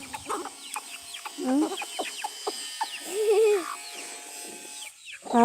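Chickens clucking in a rural yard, a series of short, irregular clucks and squawks at moderate distance, with some overlapping bird calls and brief background chatter.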